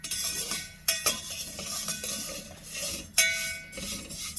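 Dry vermicelli being roasted in a pan with no oil or ghee, giving a steady dry scratching rustle with a few sharp metallic clinks of a spoon against the pan.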